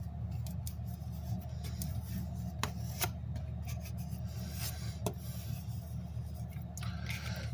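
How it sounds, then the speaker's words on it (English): A Cricut scraper rubs and burnishes glued paper down on a graduation cap, giving faint, close scraping strokes with occasional sharp ticks over a low steady hum. "get my Cricut scraper and just burnish all of this glue down that I just put on"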